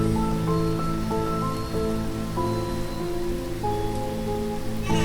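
Rain pours steadily outside a house in a cartoon scene, an even wash of falling water with no voices, joined by a soft tonal background.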